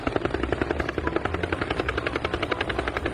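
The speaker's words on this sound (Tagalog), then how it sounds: "May chopper." A helicopter passes overhead, its rotor thumping in a fast, steady rhythm with a hum of engine beneath, loud and near, with no voices.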